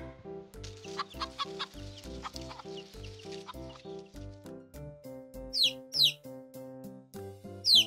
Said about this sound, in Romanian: Găina face cot cot codac